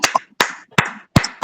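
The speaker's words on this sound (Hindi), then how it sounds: "ऐसे परमेश्वर को महिमा देने के लिए आइए एक ऊंची ताली लगाएं।" Claps ring out at a women's fellowship intercession prayer meeting, four sharp bursts of clapping in about a second and a half, loud and close with brief gaps between them and no talking.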